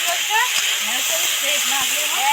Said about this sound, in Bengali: জিরে ধনে মরিচগুলো গুঁড়ো দিয়ে দু চার মিনিট নেড়ে চেড়ে ভাজতে থাকবো